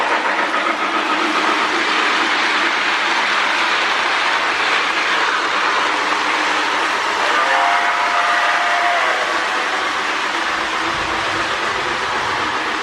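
A Lionel 2065 model train locomotive with magnet traction runs steadily on its track, giving a continuous rolling rumble, with a brief whistle-like tone sounding partway through and no talking.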